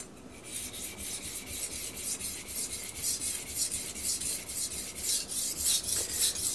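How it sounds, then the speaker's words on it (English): A knife blade is sharpened on a Miyagoshi whetstone with steady back-and-forth grinding strokes, a rhythmic rasping scrape repeating about three times a second, close and alone with no talking. "And we are moving the burr back and forth."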